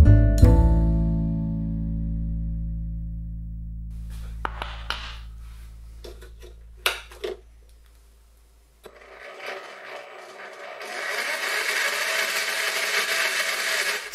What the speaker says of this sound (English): The first time the lathe's powered up, it makes this horrible rattling noise with no obvious signs of where it's coming from.